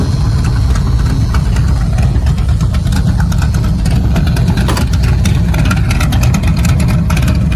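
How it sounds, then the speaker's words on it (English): A Chevelle muscle car running with its exhaust cutouts open, giving a loud, steady, rumbling idle with a dense low growl that holds constant throughout, close to the microphone. "that's your sound with the exhaust cutouts"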